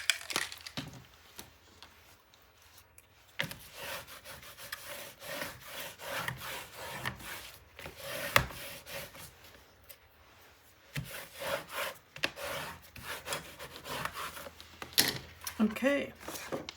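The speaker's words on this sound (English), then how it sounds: "And then we're going to give that a good burnish" Paper being burnished by hand while building a 9 x 9 scrapbook album, heard as close, repeated scraping and rubbing strokes in uneven bursts, with a person talking now and then.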